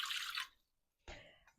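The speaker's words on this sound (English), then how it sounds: "add our 370 ml of water into our bowl. So I'm just going to pour that in." Water poured into a mixing bowl as the first step of a simple four-ingredient vegan bread dough, a brief bright splashing pour that stops, then a second shorter pour.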